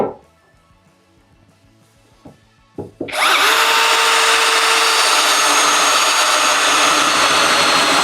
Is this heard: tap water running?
no